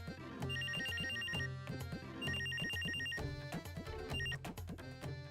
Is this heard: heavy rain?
no